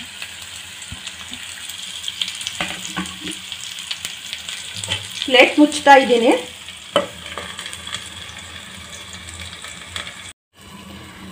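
Capsicum masala stuffing sizzles and fries in oil in a pan, a steady close crackle with scraping stirs that swell midway, while a person speaks briefly over it.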